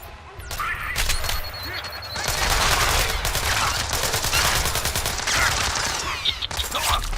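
Rapid bursts of automatic gunfire in the stealth game Splinter Cell Blacklist, loud and close with dense repeated shots, mechanical clatter and brief gaps, continuing throughout.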